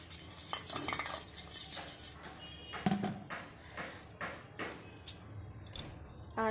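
Baking soda and vinegar being stirred together in a small container for cleaning a lighter, with a spoon scraping and clinking against the sides in repeated strokes, close and fairly quiet, with no talking.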